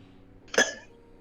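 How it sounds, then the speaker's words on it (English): A single short cough bursts out near the middle, fairly close and moderately loud, during a tabletop role-playing session with no talk over it. "Start coughing."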